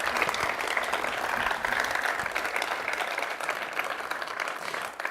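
A crowd applauds loudly, a dense, sustained wash of clapping that holds steady before easing slightly at the end.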